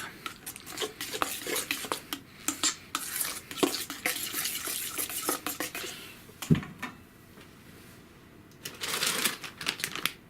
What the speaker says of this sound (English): mix that in a little bit at a time